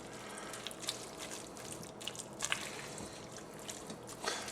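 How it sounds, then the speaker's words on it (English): A spoon stirs chili sauce into a Tex-Mex sloppy joe mixture, giving faint, soft wet squelches and light sloshing in short, irregular strokes, with no one talking. "Give this a quick stir here."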